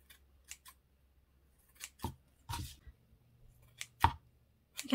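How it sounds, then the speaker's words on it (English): Scissors trimming a short faux leather fringe on a handmade witch's hat hair clip, a handful of separate crisp snips with quiet gaps between them, close and alone. "Okay, so I'm going to go around and trim this."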